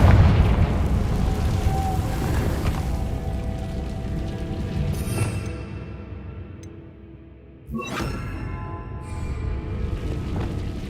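A Confringo blasting spell in Hogwarts Legacy bursts with rumbling booms and crackling blasts, a sustained loud explosive roar that briefly dips before another sharp blast near the end.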